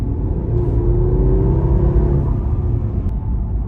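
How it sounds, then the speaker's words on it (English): A smooth, low engine of a 2020 Mercedes-Maybach S650 purrs steadily up close, a deep even rumble with a slight whirring hum and no talking. "The engine gives off this beautiful purr."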